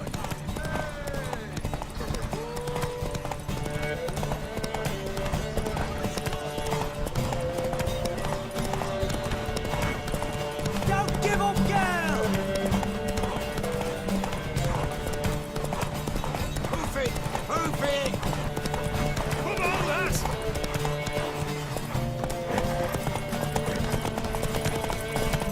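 Steady hoof clip-clop from a horse in the video game The Witcher 3, with a music bed and voices throughout, a whinny surfacing briefly.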